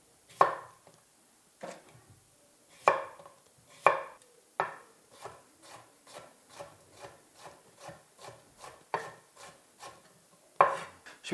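A knife chops cucumber finely on a wooden board in a steady run of crisp close taps, some louder strokes standing out, with no talking.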